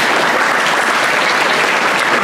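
A lecture audience claps for the speaker Carla in a dense, even round of applause that holds steady and loud, close by, for a couple of seconds.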